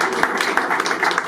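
Audience at the 62nd Hospices de Nuits-Saint-Georges wine auction presentation applauding Jackie, a brisk, steady patter of many hands clapping close by, filling the short moment.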